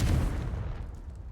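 The Confringo blasting spell in the video game Hogwarts Legacy goes off as a single loud, booming blast that rumbles and fades over about a second.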